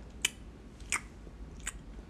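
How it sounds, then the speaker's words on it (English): Gulping hot chocolate in God of War Ragnarok: three short, separated wet swallowing sounds spaced about a second apart, close up over a quiet background. "You can hear the dulcet tones of her gulping"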